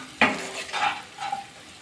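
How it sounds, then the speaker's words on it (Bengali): Cauliflower and green chillies are stirred in a frying pan, three distinct scraping strokes over a light background sizzle, close and moderately loud. "আবার একটু নাড়াচাড়া করে নিলাম"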